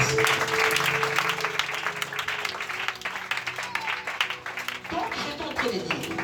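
Congregation clapping and cheering in praise during a church service, a dense, continuous wash of applause with voices mixed in, loud and sustained throughout.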